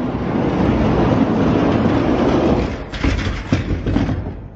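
Monster trucks race away from dropped starting gates at a monster truck competition. A loud, continuous roar fills the first seconds, then gives way to a few heavy thuds and rumbles.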